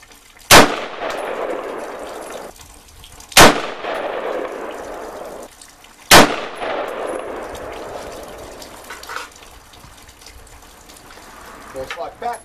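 Three rifle shots fired at an outdoor range, each a sharp loud crack followed by a ringing decay, spaced a few seconds apart, with faint activity in between.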